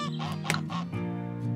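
Cartoonish ducks quack a few times in quick succession in the zoo video game Let's Build a Zoo, short bright calls over a soft game background, faint overall.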